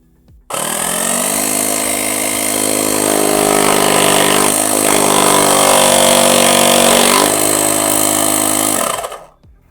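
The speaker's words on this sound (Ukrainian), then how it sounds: "Не дивлячись на свої компактні розміри, е, компресор е, видає доволі потужний потік повітря" A compact ALLIGATOR JS850 jump starter's built-in air compressor runs steadily and loudly at close range, a buzzing motor drone with a strong tonal hum that starts abruptly and shuts off after about nine seconds, with no voices.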